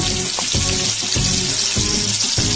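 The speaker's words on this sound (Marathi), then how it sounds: "तेल छान गरम झाल्यानंतर त्यामध्ये टाकायचं आहे आपल्याला एक ते दीड चम्मच मोहरी" Mustard seeds crackling and popping in hot oil for a dhokla tempering: a loud, dense hiss with rhythmic bursts of spitting, close up and with no voices.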